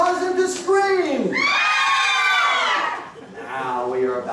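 An audience of women and children screams and shrieks loudly during a Frankenstein storytelling performance, rising wails in several overlapping bursts.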